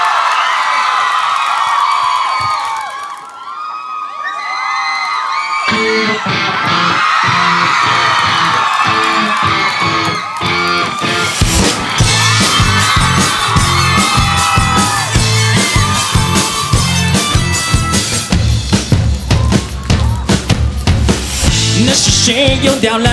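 A large crowd cheers, whoops and yells as a band is welcomed onstage at the 2009 KKBOX digital music awards. Loud band music then kicks in midway and carries to the end over the crowd noise.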